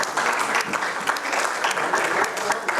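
An audience at a community gathering applauds, a continuous patter of many hands clapping, close and moderately loud for a few seconds without speech.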